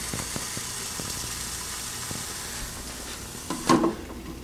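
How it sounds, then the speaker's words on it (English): Food sizzling in a hot Micro Grill microwave skillet, a soft continuous hiss heard up close with scattered faint crackles, ending in a brief louder clatter. "You can hear sizzling like a skillet."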